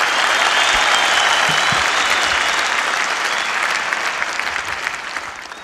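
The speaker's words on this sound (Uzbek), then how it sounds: "Keksalarimizga, qariyalarimizga bitta chiroyli qarsak bo'lsin mana shu yerda." An audience applauds elders at a public talk, a dense, steady wash of clapping from many hands that runs the whole time and fades slightly toward the end.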